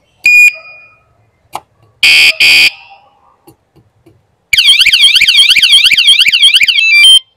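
An anti-theft security alarm on a motorcycle or scooter gives a few short chirps and beeps, then a loud, sustained warbling siren that sweeps up and down for several seconds, very close and alone.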